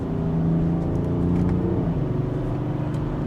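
BMW X6 M50d diesel engine note played through its sound generator while driving, a steady low droning hum with slight rises in pitch, heard from inside the cabin and without talk.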